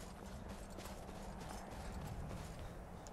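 Horse hooves clip-clop steadily in Skyrim, a continuous run of close, even hoofbeats under a dense wash of outdoor game ambience.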